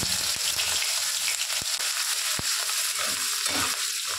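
Dried chilli, bay leaf and panch phoron hit hot oil, producing a continuous close sizzle and crackle with a few sharp pops and ticks scattered throughout.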